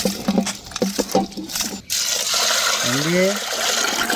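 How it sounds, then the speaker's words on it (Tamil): Water poured over washed moong dal in a pot for cooking, a broad splashing pour rising in the second half after a soft spoken word and a few light clinks. "தண்ணி அளவு கம்மியாக இருக்கும், இன்னும் கொஞ்சோண்டு ஊற்றுங்க."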